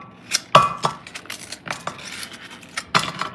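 Frozen chopped tomatoes get broken apart into pieces by hand, a series of sharp knocks, cracks and clinks from icy chunks and a utensil, heard close and irregular without talking.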